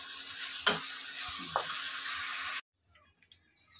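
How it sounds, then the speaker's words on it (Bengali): Prawns frying in a pan, a steady close sizzle with a couple of light stirring knocks, cutting off abruptly into near silence with faint clicks. "আমার চিংড়ি মাছটা ভাজা হয়ে গেছে"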